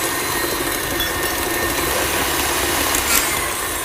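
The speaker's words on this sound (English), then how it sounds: "This mixer was running for like 2 minutes on high" An electric stand mixer runs on high, creaming butter with white sugar into a light, fluffy mix; a steady, continuous motor whir with a faint mechanical rattle holds even throughout, with no talking.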